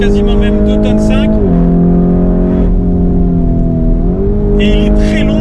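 A Lamborghini Urus Mansory SUV, a heavy vehicle over two tonnes and five metres long, drives hard through curves, its loud engine note rising and falling steadily with gear changes, with a voice speaking over it.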